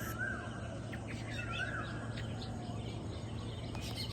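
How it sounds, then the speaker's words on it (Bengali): Birds chirp and call on a warm summer morning in scattered, clear bursts over a constant low background hum, with no talking. "কি সুন্দর পাখির ডাক"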